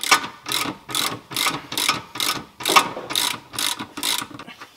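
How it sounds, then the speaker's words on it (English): A ratchet wrench undoing the bolt that holds the strut arm at the rear of a VW T5 van: about ten evenly spaced clicking ratchet strokes, close and clear, with no talk over them. "Now we're going to release the bolt holding the strut arm on at the back."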